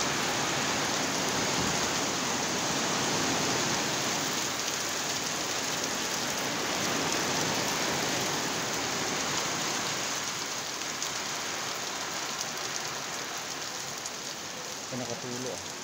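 Steady rain pours down on a mountain top, a continuous hissing wash of drops on surfaces that stays even and fairly close throughout, with no other sounds standing out.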